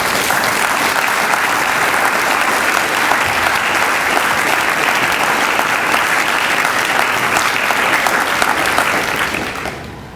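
An audience applauds to welcome Professor Candace Vogler as she arrives for a lecture on higher education, steady sustained clapping filling the room for about ten seconds before it fades at the end.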